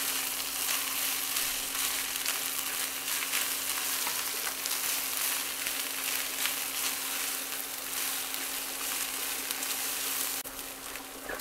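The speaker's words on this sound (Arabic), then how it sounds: "شوحتهم كده كويس قوي مع بعض، الكل شرب من الماده الدهنيه" Constant, even sizzle of rice, vermicelli and brown lentils sautéing in oil in a pan for Egyptian koshari, close and loud with soft stirring scrapes and a faint hum, no talking.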